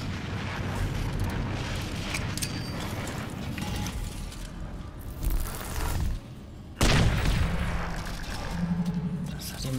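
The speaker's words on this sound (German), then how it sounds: "Granate." A grenade blast in the video game Crysis 3, booming suddenly amid gunfire and mechanical clatter while someone talks over the game action.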